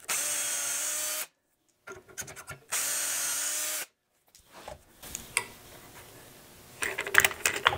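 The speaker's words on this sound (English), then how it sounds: "And we'll drill a couple holes." A power drill bores dowel holes into wood through a doweling jig, two sustained close bursts of about a second each separated by a pause, then scattered handling clatter and knocks.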